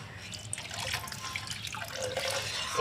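Water runs steadily from a tap or is poured into a cooking pot of katla fish-head curry with moong dal, a continuous close splashing flow with no talk.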